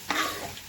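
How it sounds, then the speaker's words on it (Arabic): Two finely chopped medium onions stirred in a pot with three large spoons of hot oil for fish sayadieh rice, giving a brief close sizzle with a scraping stir near the start. "ادي حله فيها 3 معالق زيت كبار، وننزل البصلايه بتاعتنا"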